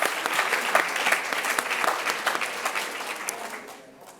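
An audience at a gala claps steadily after a performance for a few seconds, dense and lively, then gradually fades out.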